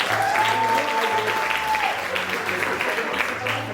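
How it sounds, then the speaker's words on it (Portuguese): An audience claps loudly and steadily at a carnival night show, the dense clapping holding throughout with voices faintly underneath. "Mais uma salva de palmas."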